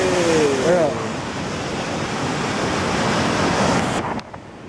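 Rushing river water roars near Ouzoud Falls, a loud, broad wash with wind buffeting the microphone and a brief whistle-like tone early on, before the sound drops away near the end.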